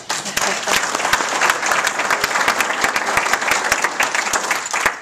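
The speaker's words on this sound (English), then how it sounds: "that is a big round of applause" Sustained applause from an audience at a political event in Arizona, dense and loud with sharp individual claps standing out throughout, steady from start to finish with no speech over it.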